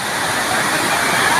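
Steady roar of a waterfall in the Philippines, a dense continuous rush of falling water close by that fills the short moment without a break.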